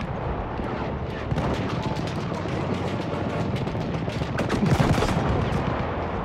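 Machine gun fire rattles in dense, rapid bursts in Battlefield 1, with heavy overlapping gunshots and explosions in a loud, continuous battle.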